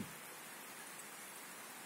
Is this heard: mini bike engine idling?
no